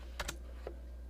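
A few quick keystrokes on a computer keyboard as a page number is entered for a Brother HL-2240 laser printer job: two close taps, then a single tap after a short pause, faint over a steady low hum.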